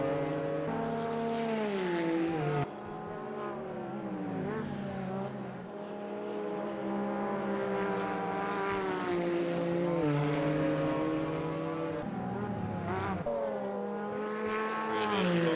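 GT1 race cars lap Brands Hatch GP, their engines whining steadily, rising and falling through gear changes. Several cars blend into one continuous, moderately loud roar.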